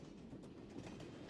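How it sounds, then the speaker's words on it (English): A train from the video game Broken Sword: Reforged runs along in a steady, low rumbling roll with faint rhythmic clatter, continuous and fairly quiet with no voices. "I'm going to climb on top of the train."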